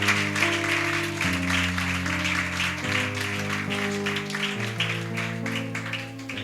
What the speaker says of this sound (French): Est-ce qu'on peut acclamer pour la parole de Dieu?